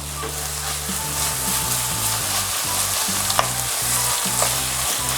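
Minced meat sizzles steadily in oil in a pan as it browns for chilli con carne, a continuous close frying hiss with occasional small pops and a low rhythmic hum underneath, no voices.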